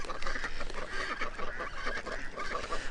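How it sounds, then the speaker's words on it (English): A group of ducks quacks and honks continuously, close by and overlapping, with a busy, chattering rhythm and no talking. "I'll turn the microphone around so you can get the full duck ASMR."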